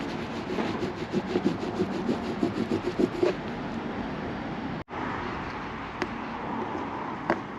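Cloth wiping a car badge clean, giving close repeated rubbing strokes in a quick rhythm for about three seconds, followed by a quieter steady hiss with a brief gap and a few faint taps.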